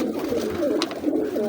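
Domestic pigeons in a loft coo in soft, low, continuous murmurs close by, with a few overlapping calls and a brief brighter flutter midway.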